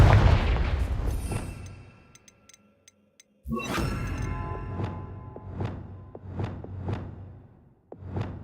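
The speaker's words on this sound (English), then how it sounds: "Confringo!" A Confringo blasting spell cast in Hogwarts Legacy. After a short lull comes a sudden loud fiery burst, followed by a string of rhythmic, booming impacts that ring out one after another.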